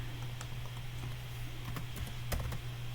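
Computer keyboard keys tapped quickly while typing a search, a few faint, irregular clicks over a low steady electrical hum.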